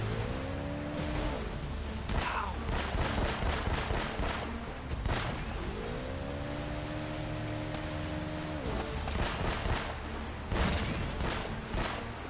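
Rapid bursts of gunfire from sharpshooters in the video game Uncharted: Drake's Fortune, loud and close, repeating in clusters of sharp cracks over a droning engine-like background with rising whines.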